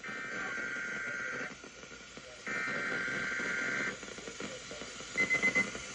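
An Emergency Alert System attention tone, a steady electronic tone sounding in two long bursts over a faint broadcast background, followed by a few short beeps.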